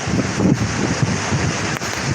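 Strong storm wind in a Punjab village as heavy clouds roll in and a tall Sikh flag sways, heard as a steady, loud, low roaring rush buffeting the microphone with gusty swells throughout and no speech.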